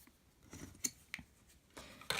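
Scissor-like metal shears cut discs from a patterned sterling silver cigarette case, giving several quiet, sharp snips spaced irregularly, close and alone.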